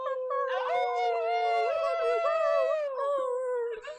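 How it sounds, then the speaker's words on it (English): A dog lets out a long, wavering howl, close and fairly loud, ending in a few short yips. "I want Cooper to start barking."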